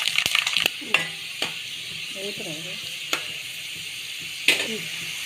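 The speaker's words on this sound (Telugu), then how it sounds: "ఎల్లిగడ్డలు, పొట్టు తీసిన ఎల్లిపాయలు, దోరగా వేగాలి" Garlic cloves, peeled and whole, sizzling in hot oil in a pan for a gongura chutney, a steady soft frying hiss with a few sharp clinks of a spoon stirring against the pan; faint speech-like sounds in the background.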